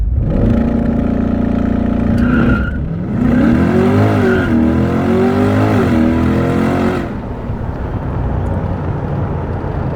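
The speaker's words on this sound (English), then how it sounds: "Watch what this thing can do from 0 miles an hour. And let's make it a 0 to 60 test." A C8 Corvette engine roars loudly up through the gears in a 0 to 60 launch, pitch climbing and dropping at each shift during hard acceleration, then fading as it pulls away.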